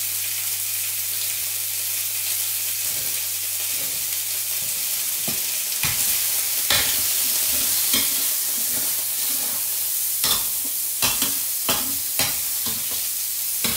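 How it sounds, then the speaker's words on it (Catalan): Pork belly sizzling steadily in a pan for rice with cuttlefish ink, with a continuous hiss of frying broken by sharp scrapes and clatters as it is stirred, close up and without speech. "començam posant la panxeta. I deixant que se vagi sofregint."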